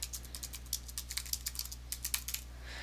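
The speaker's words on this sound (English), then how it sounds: "I should be able to type in some text here" Rapid, uneven keystrokes on a computer keyboard while text is entered into a web page, close and fairly quiet over a steady low hum, with no talking.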